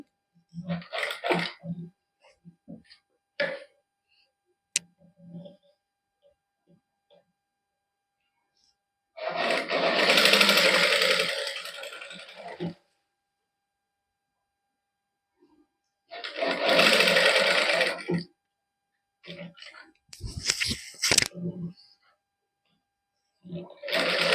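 A sewing machine runs in several bursts of a few seconds each while stitching a cotton suit neckline, alternating with someone talking between runs.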